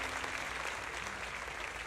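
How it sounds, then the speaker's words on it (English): Sustained applause from an in-game crowd in Zenless Zone Zero following a speech at a remembrance ceremony, a dense steady wash of clapping throughout with no voices. "Zoe's speech is met with a wave of prolonged applause."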